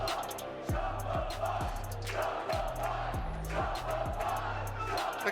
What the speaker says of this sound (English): Crowd chanting Shopify.